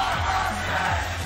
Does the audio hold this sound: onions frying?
no